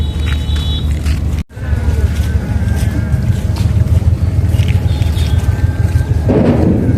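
Hundreds of trawler boats work the fast, swollen floodwater at Shilaidaha ghat in Kumarkhali, Kushtia, on a rainy, overcast day. A loud, continuous engine rumble mixes with gusting wind noise across the microphone.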